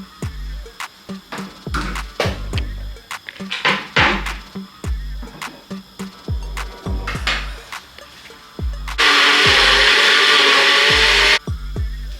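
A kitchen blender chops onion for an egusi and spinach stew, whirring steadily for a couple of seconds near the end after a run of knife chopping and clattering on a cutting board.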